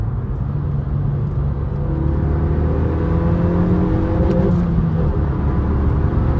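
A 2014 Renault Megane GT220 pulls hard in third gear, its engine note climbing steadily in pitch as it revs toward a low redline, with constant road and wind rumble underneath and no talk.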